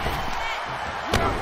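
A sharp impact strikes in a wrestling video game as a kick lands on The Undertaker in a bout against Mike Tyson. It is a single loud hit near the end, set over steady arena crowd noise.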